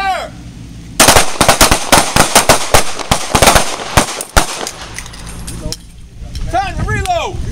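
Pistol gunfire on a shooting range, a rapid burst of sharp close shots overlapping into a ragged volley for several seconds, then tapering off into voices calling out.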